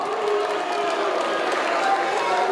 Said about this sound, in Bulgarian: Аплодисменти за Дима Глевка